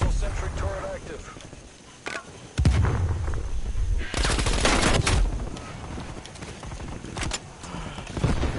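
A hostile sentry turret in a video game fires loud, rapid bursts of gunfire that swell and fade among other harsh game noises.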